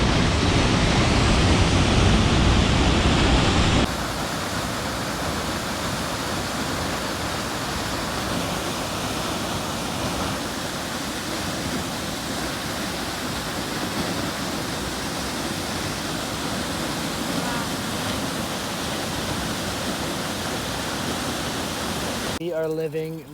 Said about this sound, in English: Here's a closer view of the falls and the pool below